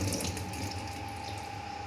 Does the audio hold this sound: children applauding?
no